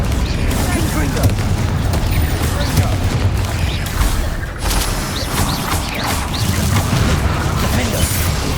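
Confringo fire spell blasting in the Hogwarts Legacy video game, loud booming explosive bursts layered over a dense, continuous wash of battle noise and whooshes throughout.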